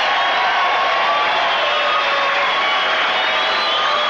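A packed arena crowd roars steadily for kickboxer Benny "The Jet" Urquidez during his fight against Tagami, a continuous, loud wash of cheering and whooping with no breaks.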